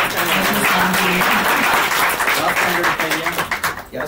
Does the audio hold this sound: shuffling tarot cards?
no